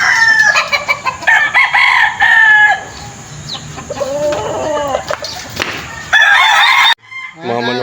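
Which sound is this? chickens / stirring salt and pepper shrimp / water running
chickens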